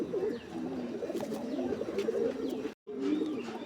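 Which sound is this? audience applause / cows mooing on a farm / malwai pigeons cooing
malwai pigeons cooing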